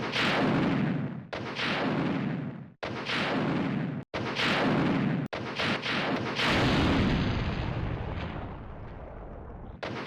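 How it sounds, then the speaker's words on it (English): A rocket launcher fires in the video game Resident Evil 2: heavy roaring blasts follow one another, each loud and filling, with short breaks between them and a long rumbling tail at the end. "a silhouetted form of Ada tosses him a rocket launcher"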